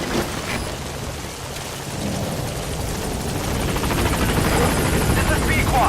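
A helicopter arriving to land at a landing zone in Metal Gear Solid V: The Phantom Pain, its rotor thrum steady and slowly growing louder, with a spoken voice over it.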